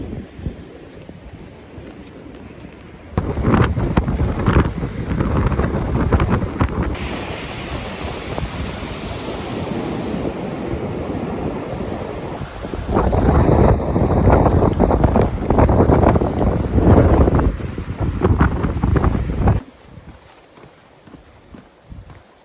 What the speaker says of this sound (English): The wind is off the ocean.